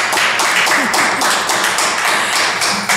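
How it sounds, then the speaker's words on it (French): Lively applause from a crowd, rapid overlapping claps filling the space at close range for a few seconds. "vous prie d'accueillir avec moi Alice Nyapa sous vos acclamations."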